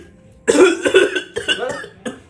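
A man coughs several times in quick succession, a rough, close burst followed by a couple of shorter coughs, in an Indonesian comedy skit set near a cassava garden.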